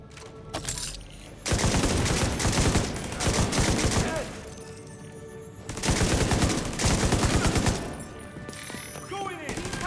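Sustained bursts of automatic gunfire from a firefight in the video game The Division 2, loud and dense, arriving in two long volleys with shouted voices and sparse shots between them.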